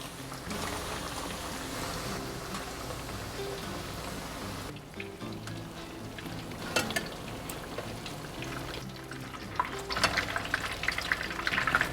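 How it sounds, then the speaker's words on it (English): Steady, dense sizzling and crackling of oil frying tortilla chips for chilaquiles, continuous throughout with occasional sharper pops growing more frequent toward the end. "So I'm done frying my chilaquiles."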